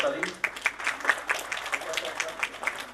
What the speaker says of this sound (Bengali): একই সাথে করতালি